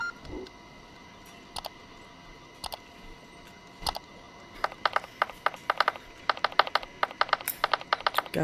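Typing on a computer keyboard in the VR office game Job Simulator: a few scattered keystrokes, then a quicker run of clicky taps, close and crisp over a faint background hiss.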